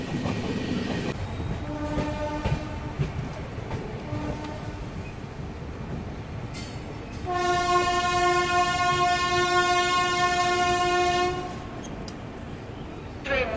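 The Rajdhani Express runs on the Guwahati–Siliguri line with a constant rumbling roll. Midway, a long, loud, steady horn blast sounds for about four seconds over the running noise.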